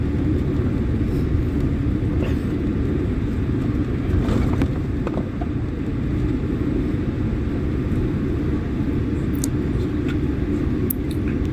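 An airliner taxiing to its parking stand after landing gives a steady, loud, low rumble that holds evenly throughout, with no talk over it.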